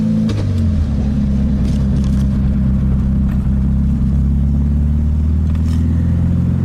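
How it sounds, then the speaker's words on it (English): A 1965 Karmann Ghia's small 40-horsepower engine idles steadily while warming up, a loud, continuous low rumble heard up close with no talk over it. "Engine's still warming up, it seems."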